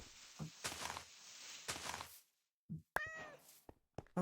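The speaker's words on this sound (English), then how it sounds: "Oh, it's a cat." In Minecraft, a cat gives a clear, close meow with a rising and falling pitch, set among soft thumps, footsteps and other brief game sounds.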